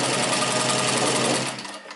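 Singer 15-91 home sewing machine stitching through leather, a steady close mechanical whir that holds loud for about a second and a half, then slows and fades as the machine spins down.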